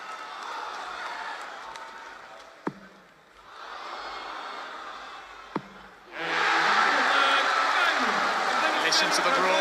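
A darts crowd at the NZ Darts Masters roars steadily, swelling and fading, with two sharp thuds; the noise then surges into a louder, dense eruption of cheering for the last few seconds.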